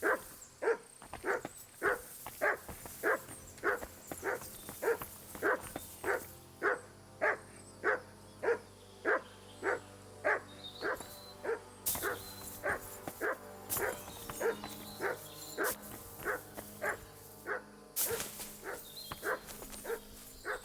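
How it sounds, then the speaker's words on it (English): Dogs barking in the medieval role-playing game Kingdom Come: Deliverance 2, a steady run of loud, evenly paced barks close by over a low background rumble, continuing for about twenty seconds with occasional yips. "What the fuck is all this barking about?"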